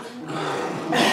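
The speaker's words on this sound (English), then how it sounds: "What'd he bark for?" A Chihuahua growls in a short, close rumble that rises into a sharp bark at the end.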